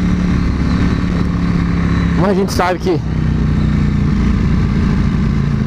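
A Ducati Panigale V4 S track motorcycle engine runs steadily and loud close by, a continuous mechanical drone with someone talking briefly over it partway through.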